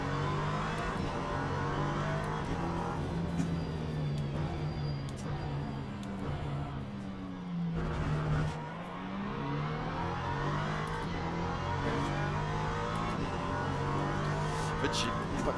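LMP3 prototype race car in Le Mans Ultimate, engine revving hard and steadily through gear changes for the whole stretch, with a brief lift and dip in the middle before pulling again, plus faint tire noise.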